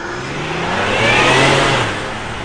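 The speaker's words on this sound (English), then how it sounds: "I think it's the nasty EcoBoost engine, finely tuned." A tuned Ford EcoBoost car engine revs up, swelling to a loud peak midway and then easing back, heard close and on its own with no talking.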